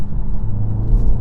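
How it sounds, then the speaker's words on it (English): BMW X1 engine pulling hard in sports mode, a steady loud low rumble from inside the cabin that holds its strength through the whole short stretch, with no talk over it. "Actually, the engine's pretty punchy."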